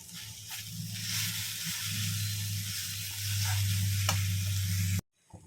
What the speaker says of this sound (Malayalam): അരപ്പ് നമുക്ക് ഈ ചീരയിലേക്ക് ചേർത്ത് കൊടുക്കുകയാണ് മുഴുവനായിട്ട് ഇട്ട് കൊടുത്തിട്ടുണ്ട് ഇനി ഇത് നമുക്കൊന്ന് ഇളക്കി യോജിപ്പിക്കാം